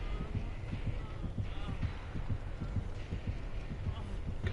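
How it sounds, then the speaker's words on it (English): A steady, throbbing heartbeat from the horror game Dead by Daylight, thumping at an even pace over a low ambient hum, without speech. "Because I can hear your heartbeat."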